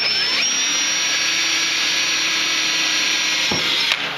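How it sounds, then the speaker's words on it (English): A power drill with a small bit bores a hole in an airframe panel, a loud continuous high whine held steady for about four seconds with a brief dip near the end, close up and without speech. "I'm just taking a small drill bit"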